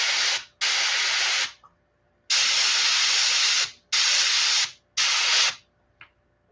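Airbrush paint spraying onto a fishing jig lure in a shad pattern, sounding as a series of close, steady hissing bursts of varying length, each cut off sharply, with a brief faint puff near the end.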